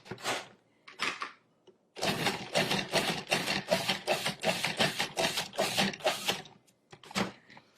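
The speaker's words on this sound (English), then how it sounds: "we're going to pulse that until it's finely chopped" A Cuisinart 14-cup food processor, model DFP-14BCNY, pulses seeded tomatoes: a couple of short whirring bursts, then a rapid run of about a dozen close motor pulses, ending with one more brief burst.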